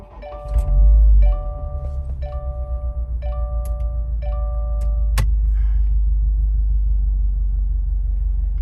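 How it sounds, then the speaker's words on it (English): Inside a car with a dashcam mounted on the windshield, a repeating electronic chime plays as the car powers on, then the engine cranks and settles into a steady, close low rumble. "All right, so we're going to power on the car."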